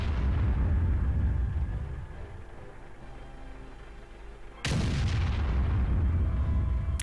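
Tank cannon fire and armor impacts in World of Tanks: a heavy rumbling boom fades over several seconds, then a sharp, loud broadband blast erupts and rolls on, with no talk over it.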